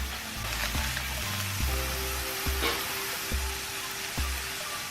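Soy chunks, carrot and mushrooms stir-fried in a pan for a Korean-Chinese jjajangmyeon, a steady broadband sizzle with a few soft thumps and scrapes from stirring, close and continuous.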